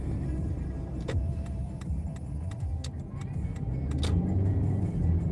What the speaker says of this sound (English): some stupid car just jumped in front of me